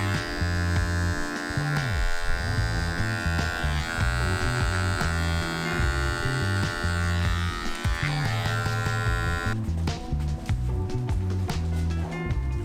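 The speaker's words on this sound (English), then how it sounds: "I'm going back to this Andis Nation Fade" An Andis Nation Fade Li electric hair clipper buzzes steadily and loudly at close range during a fade haircut. The hum runs without a break for the whole stretch, and its tone shifts slightly partway through.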